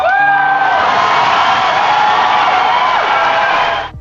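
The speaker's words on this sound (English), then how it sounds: "The crowd responded with cheers" A large concert crowd cheers and whoops loudly and continuously, with shrill voices rising above the roar before it cuts off abruptly.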